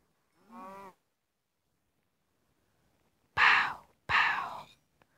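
A cow mooing in the Minecraft PE video game, heard as one short low call followed after a pause by two loud, breathy moos close together, with no talk.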